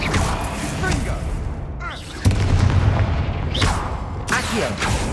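The Confringo blasting spell in Hogwarts Legacy goes off in loud, booming explosive bursts over heavy rumbling game noise, a strong blast landing midway and another near the end, with voices heard along with it.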